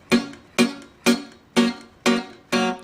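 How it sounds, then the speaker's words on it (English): Six evenly spaced palm-muted dead-thumb plucks on the open third and second strings of an acoustic guitar in a country blues style, each a short percussive thud with a quick decay, close and alone. "the 4th note is going to be another palm muting dead thumb on the 3rd and 2nd strings open"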